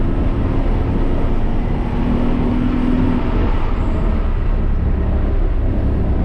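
A 160 hp BMW 323i engine running flat out on the Thunder Hill race track, shifted into third gear, gives a loud, steady roar that continues without a break.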